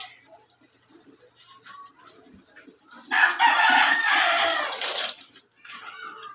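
A chicken clucks softly and intermittently, then lets out a loud, close crow lasting a couple of seconds before falling back to quieter clucks.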